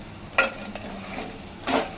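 A crab curry is stirred in a pan with a utensil, giving a low sizzle broken by a few sharp scraping knocks, near and without talk.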